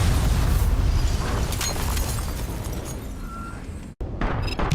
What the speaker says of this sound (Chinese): 一辆火车呼啸着开过来，汽车瞬间被撞烂、爆炸、焚烧成灰